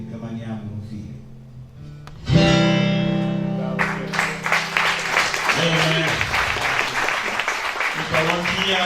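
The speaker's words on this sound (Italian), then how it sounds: "Adesso il pubblico applaude le attrici di Medea, Elettra e Clitennestra" An audience applauds actresses after a Greek tragedy staged in Sicilian, with sustained clapping building after a loud tonal swell and continuing to the end, voices heard early on.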